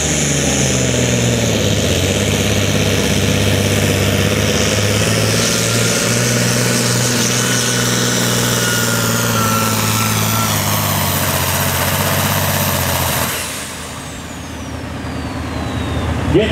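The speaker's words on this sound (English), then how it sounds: "John Deere 4955, 640 cubic inch." A John Deere 4955 farm tractor with a 640 cubic inch engine roars loud and steady under load at a tractor pull, then drops off sharply and winds down near the end.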